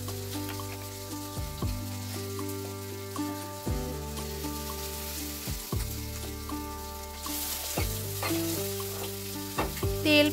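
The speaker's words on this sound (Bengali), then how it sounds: "এবার একটা গরম প্যানে সাদা তেল দিয়ে দিতে হবে।" White cooking oil heats in a hot frying pan with a soft, continuous sizzle, partly covered by stepped background music.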